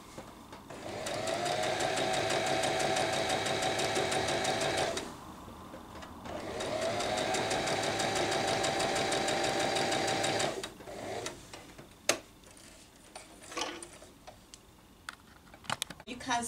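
A sewing machine stitching close to the edge of fabric, two steady runs of fast motor whirring and needle clatter split by a short pause, then quiet handling clicks and taps.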